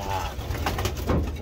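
Racing breeder pigeons, kept waiting past their usual feeding time into the evening, give soft, low cooing calls that overlap one another in a busy loft ambience.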